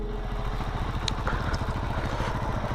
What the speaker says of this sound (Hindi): फुल स्टार्ट भी हो गया बाइक का मस्त